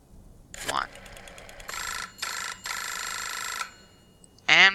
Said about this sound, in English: And we have a phone ringing.